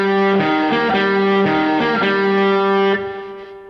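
Electric guitar with heavy distortion plays a main melody: a run of steady, sustained notes that ring out loudly and alone, then fade at the end.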